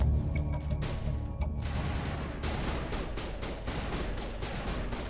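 Rapid video-game gunfire sprayed at a wall, loud, dense, overlapping bursts over a few seconds with no talking.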